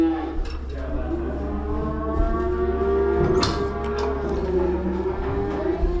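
Cattle low and moo in overlapping calls as they are run across the scales at a feeder cattle auction at the White River Valley Feeder Association. The loud, continuous mooing sits over a steady background hum.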